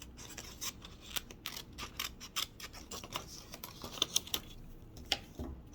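Scissors snip through paper to cut out small triangles for craft ears, giving a close series of crisp, irregular cuts with quick pauses between snips.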